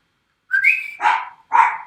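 Wilson the dog gives three vocal, whine-like barks in quick succession, close and fairly loud, separated by brief gaps of silence.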